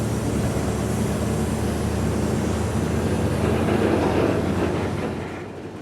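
A freight train with boxcars and empty Amerigas tank cars rolls past near Fort Lauderdale, Florida, a loud sustained rumble with steady wheel clatter that fades toward the end.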